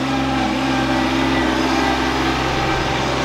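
Big orange farm tractor driving by, its engine a steady, loud, droning hum with low rumble, continuous and close throughout.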